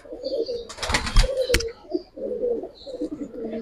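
A Giribaj pigeon in a loft gives soft, close coos, and a brief burst of wing flapping breaks in partway through.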